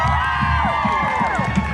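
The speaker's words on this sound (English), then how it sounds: "Give them a big round of applause." An anime convention panel audience (Anime Impulse 2022) cheers and shouts in a dense, steady wash of voices, with scattered whoops rising above it and some clapping mixed in.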